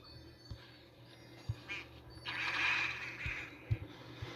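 Soft duck quacks and clicking game-like sounds at a low level from the mobile farming game Hay Day, with a brief brighter chirping burst in the middle.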